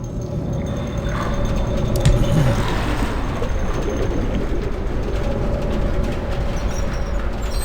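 A tram ride in the video game Riven: a steady, loud rumbling rattle of the moving car with mechanical clanks near the start, continuing evenly throughout with no talk.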